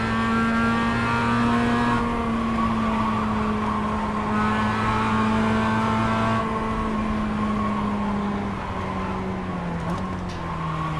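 A Mazda MX-5 race car at full throttle around Snetterton circuit, heard from on board as a loud, continuous engine drone whose pitch climbs and drops through gear changes, with no talk.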